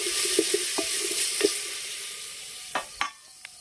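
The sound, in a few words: onions frying in oil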